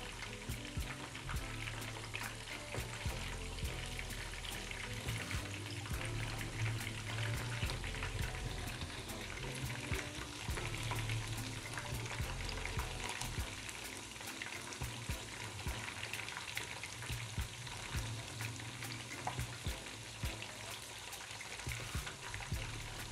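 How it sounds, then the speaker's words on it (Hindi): Chicken Manchurian pieces frying in hot oil until crisp, a steady soft crackle and sizzle throughout, fairly quiet, with no voices. "इसको हमने क्रिस्पी होने तक फ्राई करना है।"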